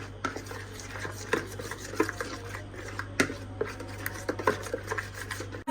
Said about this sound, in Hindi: ये मेरे पास मस्टर्ड पेस्ट है, 1 चम्मच, ये भी डाल देंगे। इसको अच्छे तरीके से मिक्स कर लेंगे।